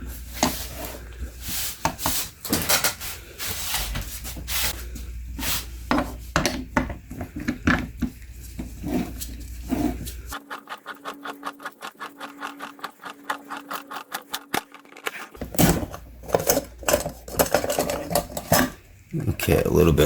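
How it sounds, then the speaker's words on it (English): An automotive oil filter being cut open: repeated metallic clanks and scraping, broken by a steady whirring mechanical stretch midway, all close and fairly loud. "Okay, so let's open up this filter."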